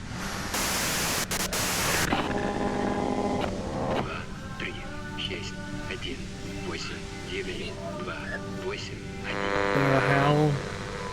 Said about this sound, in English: you can do it through the white noise